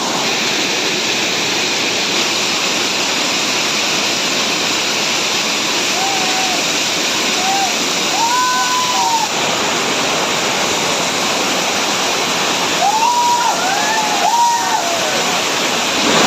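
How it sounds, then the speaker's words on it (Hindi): The Kurushnar waterfall roaring loud and steady at close range, a continuous wash of rushing water with bird calls chirping faintly over it. "पानी का आवाज तो एकदम मस्त लगा सही में।"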